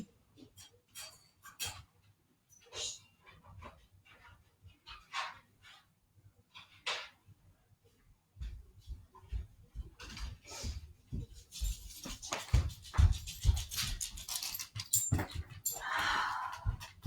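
Dogs panting and whimpering indoors before a morning yoga class, with quiet bursts of breathy panting and whines early on, then louder, busier scuffling, panting and movement noise building toward the end.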